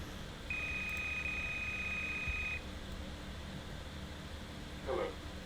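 A telephone rings in a horror exploration game set in an evil library, a single long steady electronic tone lasting about two seconds over a low background hum, followed later by a brief burst.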